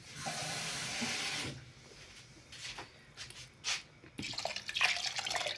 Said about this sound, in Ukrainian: І заливаємо водою зверху на два пальці.